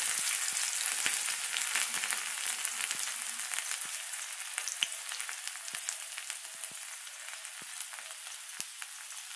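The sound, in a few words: ginger and tomato added to frying whole spices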